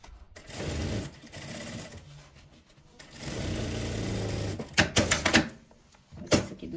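A sewing machine stitches a seam on lining fabric, running in several close mechanical bursts of rapid needle chatter separated by short pauses, with a few sharper clacks near the end.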